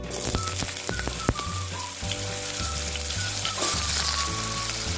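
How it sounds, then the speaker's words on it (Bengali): Potato pieces frying in hot mustard oil in a wok give a steady, close crackling sizzle throughout, with no voices over it. "কড়াইয়ের মধ্যে অল্প সর্ষের তেল গরম করে নিয়েছি এবার আলুর টুকরোগুলো ভেজে নিচ্ছি"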